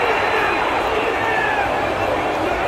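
A home crowd roars at a UEFA Youth League football match between Eintracht Frankfurt U19 and Sporting CP U19 after a corner, a dense continuous wash of cheering and noise filling the stadium.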